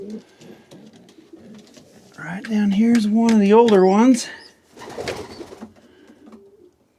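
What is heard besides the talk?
pigeons cooing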